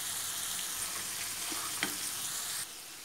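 Minced meat with spices fries in a pan, giving a steady, quiet sizzle with a couple of soft stirring knocks midway.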